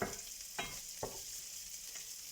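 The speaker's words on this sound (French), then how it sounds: "Donc on mélange bien, je surveille bien." Kefta filling sizzles steadily in a frying pan, with two sharp scraping strokes as it is stirred over a constant hiss; no one speaks.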